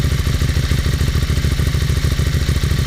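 A 2013 Ducati Hypermotard SP engine and exhaust running close up, a loud, steady mechanical thrum with a pulsing low exhaust beat and clattery engine noise, held at a constant pace.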